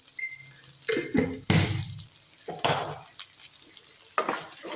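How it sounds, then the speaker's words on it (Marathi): Okra stir-fried with cumin powder in a pan: a spatula scrapes and stirs in several uneven bursts over a soft sizzle, close and moderately loud, with no talk. "असं परतून घ्यायचं आहे."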